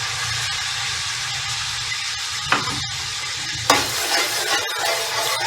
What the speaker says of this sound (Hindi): अब हम इसमें अपनी 1 कप दही और जो हमने कनौर क्यूब रखे हुए थे वो ऐड कर